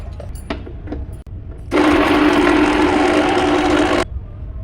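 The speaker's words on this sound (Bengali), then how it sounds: "এগুলোকে সব আমি মিক্সিতে পিষে নেব" A kitchen mixer grinder coarsely grinds chicken pieces in one loud, steady whirring burst of about two seconds, starting and stopping abruptly after a stretch of quieter clatter.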